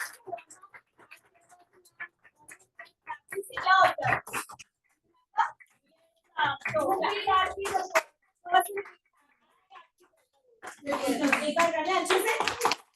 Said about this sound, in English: we have a huge round of applause for each one of you